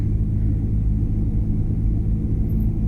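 A car engine is pulled uphill on gentle throttle during a driving lesson on a hill tour route, a heavy, steady low rumble from inside the cabin, loud and constant with no talk.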